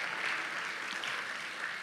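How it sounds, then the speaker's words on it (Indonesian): Church congregation claps together, a dense, even burst of applause filling the space throughout. "Kasih tepuk tangan yang paling meriah buat Allah kita."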